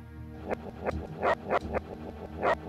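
In the video game Commandos 2: Men of Courage, a dog barks repeatedly, about six sharp, evenly spaced barks, loud and close against a faint steady hum.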